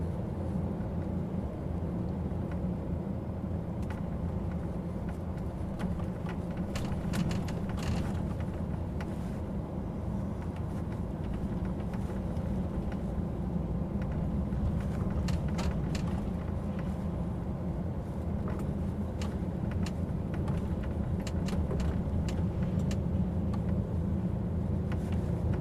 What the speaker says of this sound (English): you get me coming through with a noisy truck and a load of chains bouncing on the trailer